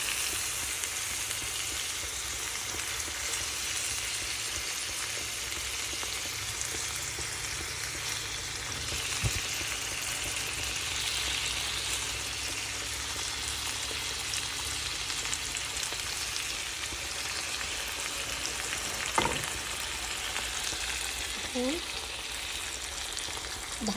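Hilsa fish pieces frying in hot oil, a steady close sizzle running throughout with a few brief clinks of a utensil near the end.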